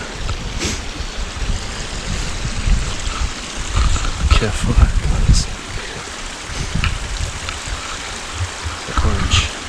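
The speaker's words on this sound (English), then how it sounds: "River." River water flowing and rushing in Carragooms National Park, a steady broadband wash with brief louder surges, heard close by while a person speaks briefly over it.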